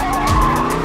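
A mid-engine 1968 Dodge Charger skids with loud, sustained tire squeal over steady engine roar, one continuous slide held close and loud throughout.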